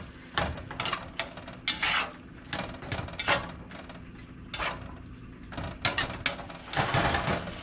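Spoon or spatula scraping and clinking against a pan as seasoning is stirred into browning ground meat for Philly cheesesteak spring rolls, with repeated short scrapes and knocks over a low sizzle, close and moderately loud.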